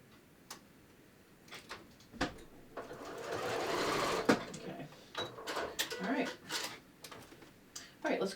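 A home sewing machine stitches a pocket on yoga pants in a few bursts with pauses between, fairly quiet and close, with someone talking over parts of it.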